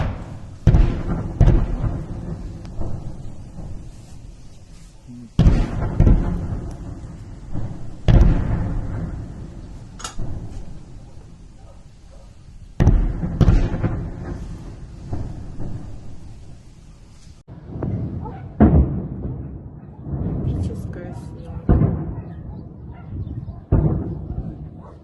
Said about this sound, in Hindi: वहां पर बड़ा धमाका दोपहर बाद हुआ। कहा जा रहा है कि यह यूक्रेन का बड़ा हमला था।